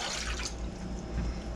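Water runs into a cooking pan while 1.5 cups are added for a bean burrito recipe, a close, steady splashing pour with bright trickling and a few drips, with no talking.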